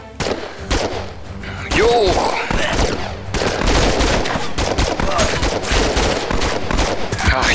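Rapid pistol shots in the VR shooter Operation Serpens, a dense string of sharp loud cracks close by, with a player shouting briefly between bursts.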